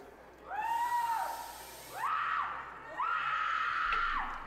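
A person wearing a mask on a ride lets out three long, shrill screams, each rising, holding and falling away, with short breaks between them.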